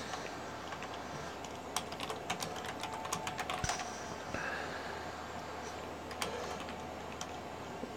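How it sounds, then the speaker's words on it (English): Quick, light clicks of typing on a computer keyboard come in irregular bursts over a steady background hum, fairly close and with no talking. "I was typing something real quick."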